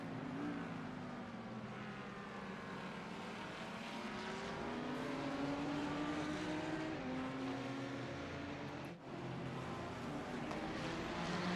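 A sim-racing race car engine in iRacing at Daytona drones steadily with wavering, uneven pitch, sputtering and dipping briefly near the end as it runs out of fuel; no voices.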